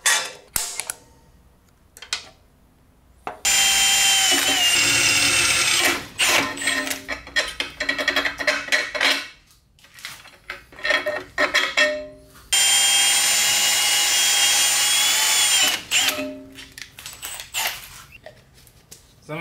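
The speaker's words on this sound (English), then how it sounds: "What about threading with a drill?" A power drill whirs in long bursts while threading holes in a metal plate, separated by pauses with short clunks and creaks, close and loud.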